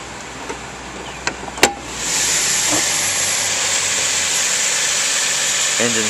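A 2002 Dodge Intrepid SE's V6 engine idles with a steady, even hiss and hum that comes up after a few light clicks at the start and then holds level to the end.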